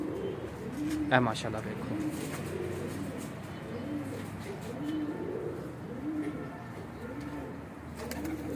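Pigeons in a loft, among them a Sel Poti hen, coo in repeated rolling phrases at a steady rhythm, close and moderately loud, while someone speaks briefly near the start.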